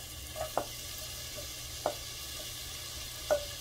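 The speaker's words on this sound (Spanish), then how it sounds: "Vamos a añadirle el aceite vegetal y vamos a empezar a sofreír las cebollas." Onions sautéing in vegetable oil in a hot saucepan: a soft, even sizzle with three brief spoon knocks spaced apart, fairly quiet and with no speech.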